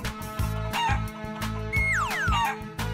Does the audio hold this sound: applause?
no